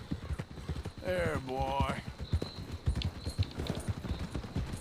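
Horse hooves clip-clop steadily in Red Dead Redemption 2, running under a voice speaking calmly to the horse.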